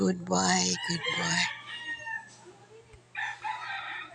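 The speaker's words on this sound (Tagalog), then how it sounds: "chickens ng kapitbahay." Backyard chickens in a neighbourhood yard in Socorro, a rooster crowing loudly nearby followed by clucking and a few more calls, with a bit of background noise.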